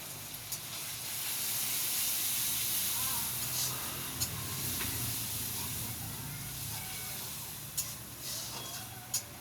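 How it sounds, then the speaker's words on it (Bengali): Ginger garlic paste sizzles in a pan with onion and capsicum, a steady steamy hiss that swells and then settles, with a few faint clinks and a muffled voice in the background. "এবার আদা রসুন পেস্টটা দিয়ে দিল।"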